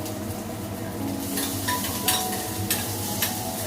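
Curry ingredients fry in oil in a pan on a home kitchen stove, giving a steady close sizzle with a few light scrapes and clinks of stirring on top.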